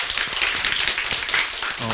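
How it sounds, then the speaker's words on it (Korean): A congregation at a Korean Christmas Sunday church service claps in steady, dense applause for the whole brief moment. "우리 함께 영광의 박수 올려드리겠습니다"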